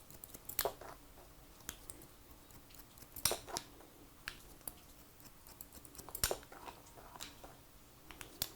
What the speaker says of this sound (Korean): 가위 날 끝을 세워 가지고 커트가 들어가면은 사실 시간적으로 조금 더 걸려요